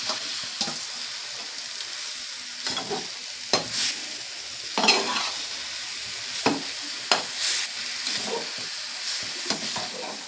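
Bottle gourd greens being stir-fried in a pan after turmeric and green chilli, with poppy seed paste; steady close sizzle and hiss broken by repeated scraping stirs, no voices.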